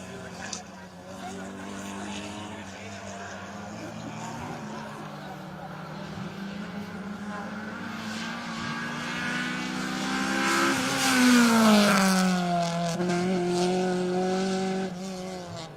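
Rally cars, including an Opel Manta A, race along a special stage; engines build from a distant drone to a loud, high-revving pass with rising pitch near the end, under steady commentary.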